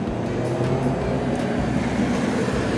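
Cars rolling through a parking lot outside an abandoned Toys R Us, a steady close engine and tyre rumble that stays loud and continuous throughout, with no talking.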